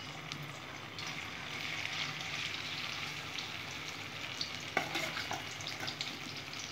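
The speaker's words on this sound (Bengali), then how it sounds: "ঢ্যাঁড়সটা আমি হালকা করে ভেজে নেব বন্ধুরা" Okra lightly frying in a pan gives a steady hiss and sizzle, with a brief clink of stirring partway through.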